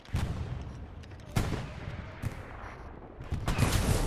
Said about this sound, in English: Their AT gun.